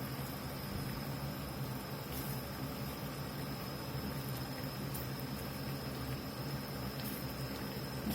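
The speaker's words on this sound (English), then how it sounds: "Just been simmering here about 5 or 6 minutes." Creamy Cajun sauce with sausage simmers in a pan, giving a steady, soft bubbling hiss that carries on evenly throughout with no talking.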